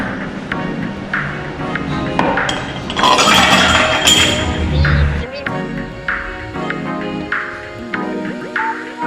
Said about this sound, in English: We're going to put it in the vending machine and watch it go.